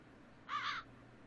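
A single rasping crow caw, fairly close and clear, from the adventure game The Dark Eye: Chains of Satinav, standing alone over a faint, steady game ambience.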